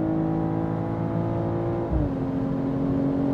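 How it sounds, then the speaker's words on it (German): BMW M440i Gran Coupé with a 3-litre six-cylinder engine accelerating, a steady loud drone that drops in pitch briefly around a gear change before climbing again, heard from inside the car with no talk. "Jetzt geben wir noch einmal Gas."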